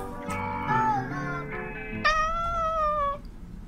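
A cat meows twice, the first call wavering and the second a longer, rising, drawn-out cry, both close and clear over a low background hum.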